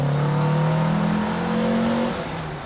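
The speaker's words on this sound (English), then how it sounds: "So second gear. Okay, full throttle." A car fitted with dual Weber 40 IDF carburettors pulls hard at full throttle in second gear, its loud engine note rising steadily in pitch as it revs, then beginning to ease off at the end.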